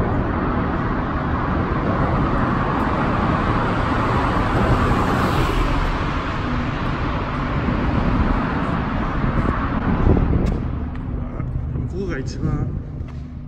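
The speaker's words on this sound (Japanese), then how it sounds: "遠くから車通ってるんですけど、なんかすごいやっぱ音が" Cars passing far off inside a mountain tunnel, their sound echoing in a continuous reverberant rumble that swells slightly near the end.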